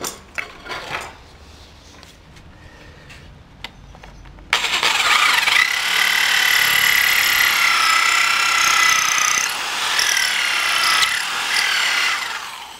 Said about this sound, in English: there is another tool here with the electric drill, not just the cordless drill.